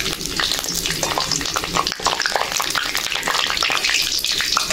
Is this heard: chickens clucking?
no